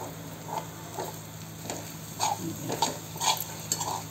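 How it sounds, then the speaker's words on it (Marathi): Raw peanuts roasting in oil in a pan make a quiet, soft rattle and scrape as they are stirred, with faint light sizzling and a few small metallic clicks. "हे शेंगदाणे आता कच्चे होते ना शेंगदाणे, आता हे तेलामध्ये चांगले भाजून घेणार"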